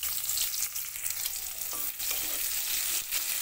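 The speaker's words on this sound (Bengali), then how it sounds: "পেঁয়াজটা একটু ব্রাউন কালার করে ভেজে নেব।" Chopped onion with whole cumin sizzles in hot oil, a continuous close frying hiss with occasional stirring scrapes and no voices.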